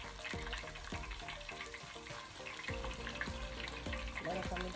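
Tilapia fish frying in a pan, a steady dense sizzle with sharp crackles and pops running throughout, close and fairly loud with no talk over it.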